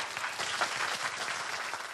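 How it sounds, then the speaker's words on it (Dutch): Public gallery applause during a municipal council debate on expanding Lelystad airport, a brief dense burst of many hands clapping heard at moderate distance in the chamber. "Ik hoor hier het applaus ook iedere keer."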